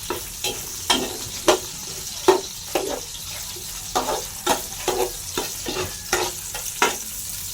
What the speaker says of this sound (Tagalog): Tapos ilalagay natin ang sibuyas.